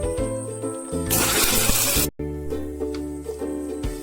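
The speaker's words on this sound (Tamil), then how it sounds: "இப்போ இதில் லேசாக தண்ணி விட்டுருங்க" Water splashes into onion paste in a mixer jar for grinding, a loud hissing gush for about a second then cut off, over a steady background hum.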